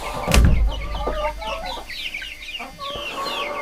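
A flock of backyard homestead hens crowded into a corner of their coop, clucking and squawking over one another close by, with a loud flap or bump near the start.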